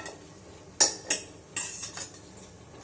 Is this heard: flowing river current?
no